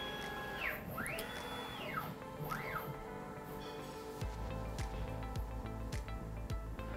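Firefly liquid handling robot transferring DNA samples to dispensed beads, with motor whirs that rise and fall in pitch, clicks, and later a run of soft rhythmic mechanical pulses, moderately quiet.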